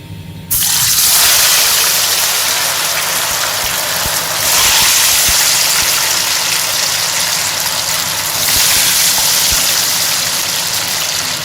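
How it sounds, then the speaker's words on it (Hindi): Fries dropped into hot oil on a stove set off a loud, steady hiss of frying that starts abruptly after half a second and holds, swelling slightly twice, with no talk over it. "ऑयल हमारा जो है मैंने रख दिया चूल्हे पे और ये गर्म हो गया है, और इसमें फ्राई डाल देंगे सारी।"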